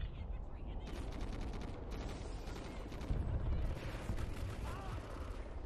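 Gunfire from an M27 rifle in a search-and-destroy video game match, with dense, continuous rapid shots and a heavier stretch in the middle, all fairly quiet and steady throughout.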